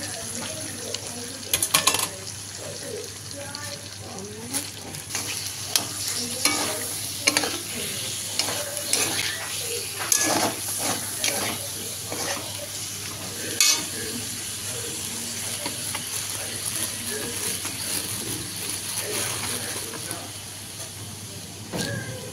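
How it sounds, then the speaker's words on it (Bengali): Tomato and onion frying in a pan for butter chicken masala, with a steady sizzle and scattered stirring scrapes that run throughout, close and moderately loud, and a voice briefly audible in the background. "এবার টমেটো, পেঁয়াজ একে একে দিয়ে দেবো।"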